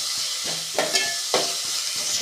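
Onion, carrot and drumstick leaves sautéing in a hot pan for upma, with a steady loud sizzle and hiss broken by a few stirring scrapes, close up and without speech.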